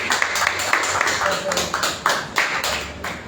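An audience at a poetry recital in Lima, Peru, claps for Juan Carlos, giving steady applause with distinct rhythmic claps standing out, close and fairly loud throughout.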